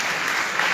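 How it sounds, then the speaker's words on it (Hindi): Church congregation clapping during a Sunday service: a short, dense burst of many hands clapping together, fairly loud and heard on its own without speech. "ताली मारो।"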